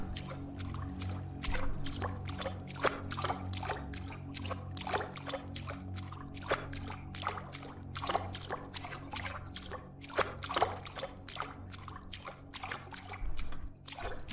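Footsteps splashing through shallow water in an alien abduction video game, a steady run of soft, wet slaps and drips over a low droning musical background, with no talking.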